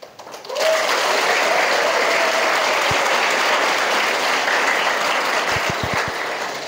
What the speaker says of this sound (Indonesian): Pondok Pesantren Riyadul Huda, Kuningan, Jawa Barat, Nusantara merindukan tepuk tangan antum hari ini